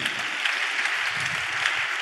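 A church congregation claps in praise, the applause steady and fairly dense over its short length, with no voices standing out.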